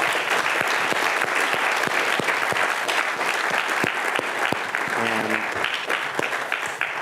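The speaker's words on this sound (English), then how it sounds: "we'll give them a round of applause" Audience applause at a hypertext history session at Brown University, a steady, dense clapping from a room of people lasting several seconds, loud and continuous, with a single word spoken near the end.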